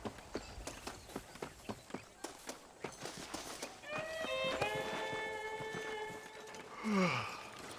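Horse hooves in the Red Dead Redemption video game, a steady run of clip-clop beats at a canter, followed by a sustained tonal musical swell and a brief whinny-like sound near the end.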